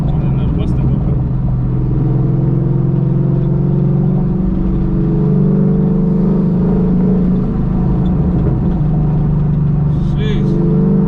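A Ford Mustang fitted with new headers and a mid pipe drives along, its deep engine rumble steady and loud throughout, with voices heard over it at times.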